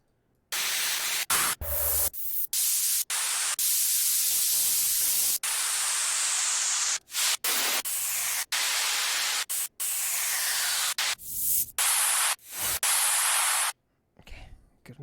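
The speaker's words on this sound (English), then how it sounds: "Just need some white noise." Loud, harsh white-noise static fills the clip in long bursts, cutting in and out abruptly with short silent gaps between blocks, alone with no voices.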